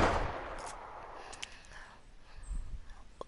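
Hand cannon shots in a video game, with a sharp report up front, then a fainter shot and a few brief pops that trail off under a steady background hum.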